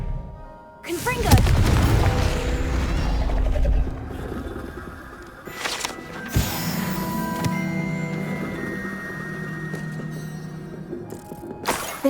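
Confringo blasting spell in the video game Hogwarts Legacy: a deep booming explosion with a swelling whoosh, followed by a second impact and sustained magical rumble, with game voices heard around it.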